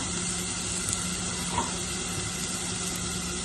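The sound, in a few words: ginger, garlic and curry leaves sautéing in a pan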